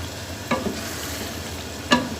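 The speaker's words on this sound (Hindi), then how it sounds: "तेज़ आंच पे ही हम इसका पानी भी खुश्क करेंगे और साथ साथ कीमे की बुनाई भी होती रहेगी" Minced keema fries on high heat in oil with a steady, soft sizzle, and two brief sharp scraping strokes of stirring stand out against it.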